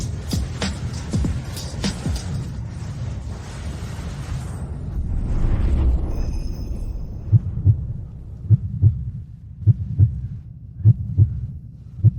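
A heartbeat sound effect in a romantic drama. Deep, thudding paired beats come in a steady quick rhythm under a rumbling, noisy backdrop, then stand out clearly on their own as the background drops away.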